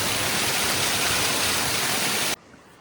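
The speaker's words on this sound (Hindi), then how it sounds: "मिनी झरना की तरह देखने को मिलेगा।" Rainwater from the fields pours over a small earthen field dam in a Chhattisgarh village during heavy monsoon rain, a loud, steady, close rushing like a mini waterfall that cuts off abruptly near the end.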